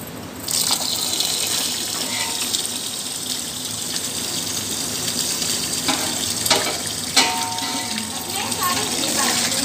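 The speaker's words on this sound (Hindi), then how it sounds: "सारा चावल धुलाई हो रहा है।" Fresh rice is washed under a running tap, a steady gush of water splashing in a vessel throughout, with brief clinks and handling knocks of grains and pot breaking through now and then.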